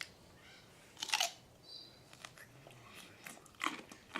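A piece of crunchy fermented kimchi carrot is bitten and chewed close to the mic, giving a sharp crisp crunch followed by softer chewing crackles and another crunch near the end.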